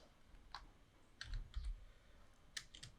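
A few scattered keystrokes and clicks on a computer keyboard, quiet and close, tapping in short clusters with pauses between them and no voices.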